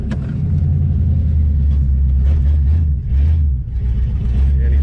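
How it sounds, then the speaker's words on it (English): A deep, loud 1967 Chevrolet Impala engine rumbles and burbles continuously up close through an open exhaust, with a throaty low exhaust tone and slight rises in revs. "Sounds like a hot rod with that exhaust cut off on it though"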